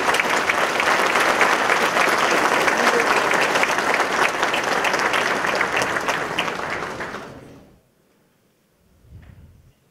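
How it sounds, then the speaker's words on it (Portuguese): An audience at an agribusiness event in São Paulo applauds as officials leave, a dense, loud round of clapping lasting several seconds before stopping abruptly, followed by a faint short noise. "Uma salva de palmas às autoridades que se retiram."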